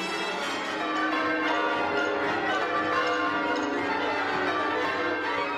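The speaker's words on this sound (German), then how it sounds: "Nur der exakt eingehaltene Wechsel der Reihenfolge, mit der die Seile gezogen werden, macht die fast unbegrenzte Variation des Glockenklangs möglich." Church bells rung in changes by pulling ropes in Quebec, a dense, continuous peal of overlapping bell strikes that rings steadily and loudly throughout, with no talking.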